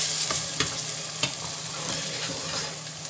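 Sliced onions frying in oil in a pan, a soft steady sizzle broken by a few scraping stirs of a spoon, close and fairly quiet with no talk.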